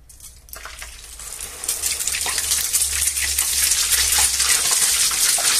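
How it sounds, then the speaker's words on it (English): Torrijas fry in hot oil, a hiss of bubbling that starts quiet and swells into a steady, loud sizzle with crackles, no voices over it. "I'm going to check if the oil is hot."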